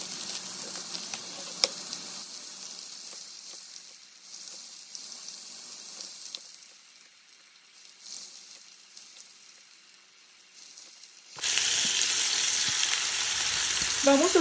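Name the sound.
Mexican-style sausages cooking in a pan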